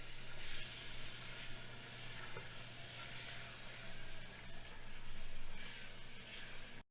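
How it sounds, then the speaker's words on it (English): Roux and vegetables for gumbo sauté in a pot, giving a soft, continuous sizzle with gentle stirring that swells and eases, heard close and fairly quiet with no voices. "So we need to go ahead and get this heated while we kind of saute this a little bit."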